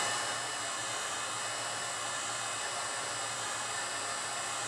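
A heat gun blows steadily on a broken iPad 2 screen to loosen the glass, producing a constant, even rushing roar from start to finish, close and loud, with no voices.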